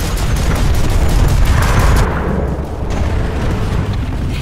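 In the online shooter Planetside 2, a tank destroyed by a rocket launcher bursts in a loud booming explosion, followed by rumbling debris and battle noise that settles into a lower roar.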